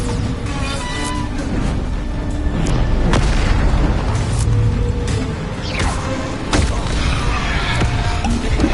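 Booming spell blasts from the Bombarda charm in the Hogwarts Legacy video game, loud and dense, with repeated deep impacts layered over continuous game effects.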